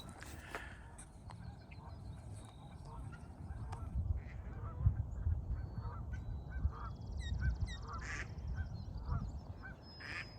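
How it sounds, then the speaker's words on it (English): A goose honks repeatedly in short, sharp calls, nearby and fairly loud over steady outdoor rumble, with a voice murmuring faintly underneath. "I don't want no problem with that goose there."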